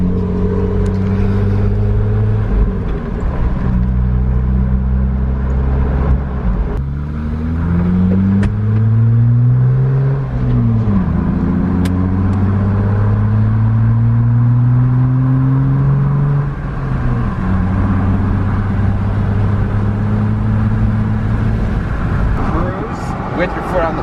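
A Jeep JL Wrangler fitted with a Flo-Pro performance exhaust drives along, its engine droning and rising and falling in pitch as it accelerates and shifts, heard from inside with a steady low rumble.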